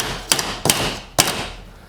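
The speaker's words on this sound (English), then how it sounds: "I'm just gonna take my hammer again. I'm gonna give that a good whack." A hammer strikes a garage door roller three times to seat it, each whack a sharp metallic crack, close and loud, with short pauses between blows.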